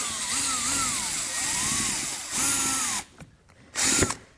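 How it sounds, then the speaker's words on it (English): A power drill whines close up, pitch rising and falling as it bites into plastic rivets on a 2018 Jeep Grand Cherokee, then stops and gives a short final burst. "we need to drill those out"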